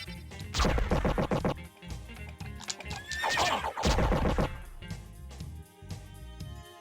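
Horses neigh loudly and repeatedly over clattering hoofbeats in the video game Castlevania: Symphony of the Night, with a few sharp impacts mixed in. The sounds are close and busy.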